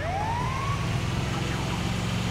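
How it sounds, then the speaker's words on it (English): A rising siren wail from an ambulance in the GTA 5 video game sweeps up once over a constant low engine rumble and road noise. "That was a good call on the ambulance, Eddie."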